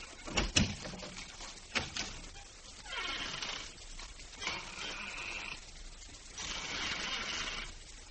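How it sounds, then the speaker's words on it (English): An office door in an old radio drama thumps shut with a couple of sharp knocks early on, then softer shuffling and a muffled opening follow, with hissy background noise and no talking. "I'll step outside the office and close the door and then open it again"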